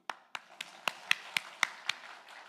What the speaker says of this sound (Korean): 이 박수는 졸음 방지용입니다